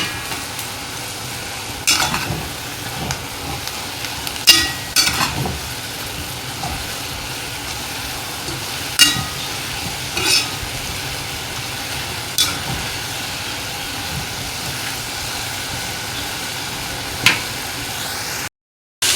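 Fried potatoes being stirred into masala in a pan, a fenugreek-leaf and potato stir-fry, giving a continuous sizzle with repeated scraping strokes of a spatula at uneven intervals, close and fairly loud.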